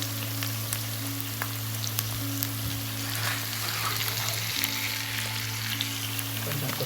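Sliced onions fry to golden brown with fresh mint in a pan of oil for a Saudi-style murgh masalam, giving a steady, close sizzle over a constant low hum throughout.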